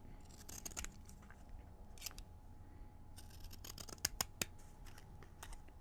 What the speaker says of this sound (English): I like to use my decorative scissors. These are Fiskars. This is the paper edger one